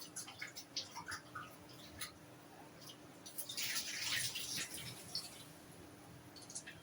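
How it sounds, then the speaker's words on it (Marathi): Raw chicken being rinsed again with water at home, with quiet splashing and dripping that swells briefly into a louder burst of running water midway. "हे चिकन वगैरे साफ करून घेतो"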